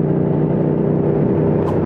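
A motorcycle engine, Yamaha R6, Honda CBR600 or Triumph Speed Twin, holds a loud, steady high-rev drone at full throttle, close and unbroken for under two seconds.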